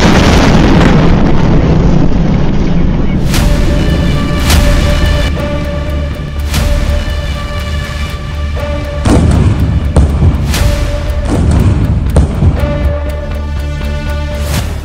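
Bombing explosions in the Ukraine war come as repeated heavy booms and bursts, loud and close, over a dense, continuous rumble with no speech.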